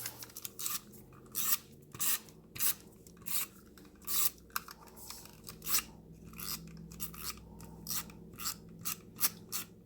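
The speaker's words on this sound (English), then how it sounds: "I'm going to come at the tape runner" A tape runner rasps across a paper planner page in a dozen or so quick, close strokes with brief pauses between them.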